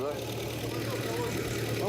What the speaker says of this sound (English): It's revving weird.